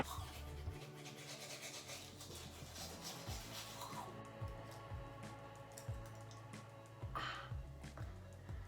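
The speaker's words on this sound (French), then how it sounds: "Je vais me laver les dents" Teeth brushed with a toothbrush at night, a close, steady scrubbing with quick back-and-forth strokes that carries on throughout, while faint clicks and a low hum sit behind it.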